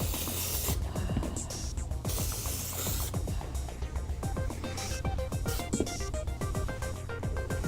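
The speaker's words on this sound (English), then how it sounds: "I find they go back in easier when you spray them down with a little powder" Short bursts of aerosol powder spray hiss into Kenetrek boots, several quick puffs in a row, close up, mixed with light rubbing and handling noises.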